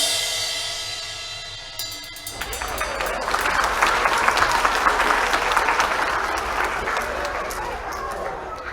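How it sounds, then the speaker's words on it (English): A studio audience breaks into applause on a talk show, the clapping starting abruptly after a brief quiet moment and then continuing as a steady, dense burst of many hands. "another round of applause for our last guest"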